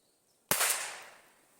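One sharp, close gunshot crack from a Safari 420 Magnum Flobert rifle after a moment of quiet, followed by a short fading ring.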